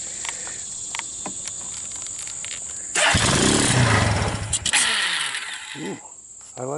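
A Suzuki Kingquad 300 ATV, converted from a Mikuni to a Keihin clone carburetor and started on choke with a jump pack, turns over then bursts into a loud, close engine roar that revs and dips before fading, amid outdoor insect chirping.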